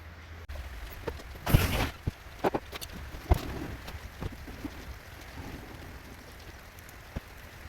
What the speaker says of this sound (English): we're going to wash out the engine bay